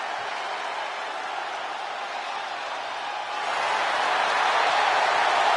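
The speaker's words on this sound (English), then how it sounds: "The crowd on their feet." A wrestling arena crowd at a Monday Night Raw King and Queen of the Ring event keeps up a steady roar of cheering that swells louder partway through.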